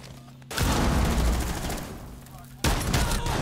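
A shotgun fires in Rainbow Six Siege, with two loud, abrupt blasts whose reverberating roar fills the space between them, the second arriving about two seconds after the first.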